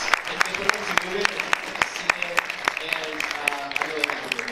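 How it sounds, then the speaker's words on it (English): Audience at a Comic Con panel, Los Angeles 2018, applauding with dense, sharp claps that carry steadily over several seconds, while a voice speaks over the clapping. "can we give a round of applause for these guys?"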